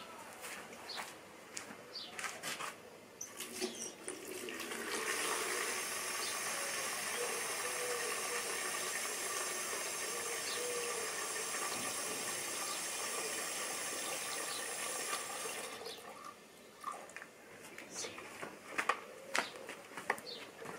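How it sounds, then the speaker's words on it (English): A bucket fills with water from a tap. A steady hissing rush starts after a few seconds of quiet background, holds evenly for about ten seconds, then stops, followed by scattered small clicks and knocks. "I'm going to fill it up with water"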